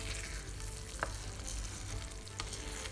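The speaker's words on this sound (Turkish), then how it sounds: "Karıştıralım." Low-protein Turkish tomato rice stirred in a pot on low heat, a steady soft bubbling simmer with a couple of sharp spoon scrapes against the pot, close and alone without any voices.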